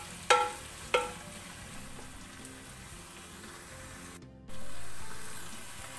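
Tomato and curry leaves sauté in a pan for beef curry, a soft hiss under a couple of sharp clinks of a stirring spoon, then a brief pause before a louder sizzle swells and slowly fades.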